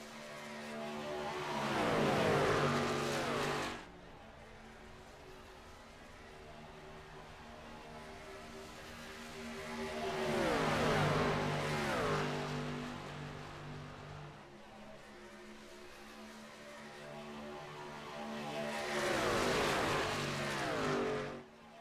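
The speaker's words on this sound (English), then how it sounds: "Truck's going to the inside hard on the wall as Bryce Benson does the back straight away," Race trucks in the iRacing NASCAR Truck Series at Las Vegas sweep past in three waves of rising and fading engine roar, with a steady engine drone between passes.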